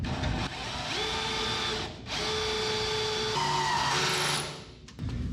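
A power drill whines as it bores holes in the fenderwell of a 1976 GMC truck, running at close range in two long steady spells with a short pause between them and a pitch shift as the bit cuts.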